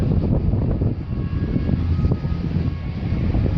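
A Canadair firefighting propeller aircraft drones overhead, a low, steady roar holding throughout without voices.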